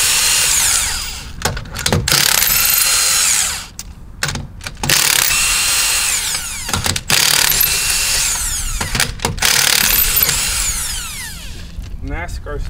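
Loud bursts of a power tool whirring at close range while removing wheels from a BMW E36, stopping and starting several times, with brief gaps and clanks between runs.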